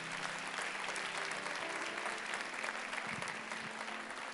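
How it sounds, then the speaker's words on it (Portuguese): Church congregation clapping during a sermon, a steady, even wash of many hands applauding together, fairly distant and unbroken throughout. "Você podia aplaudir o Senhor por isso."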